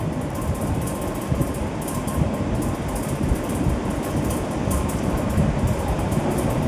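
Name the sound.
shoestring potatoes frying in hot oil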